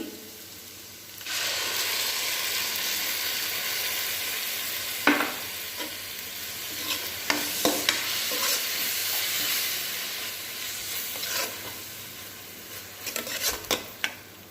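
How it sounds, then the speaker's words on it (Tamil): Tomatoes and onions sauté in a pan for a mushroom gravy, with a continuous close sizzle and repeated spatula scrapes and clinks against the metal that cluster near the end. "இதையும் நல்லா வதக்கிக்கோங்க. தக்காளி வெங்காயம் எல்லாம் நல்லா வதங்கிருச்சு"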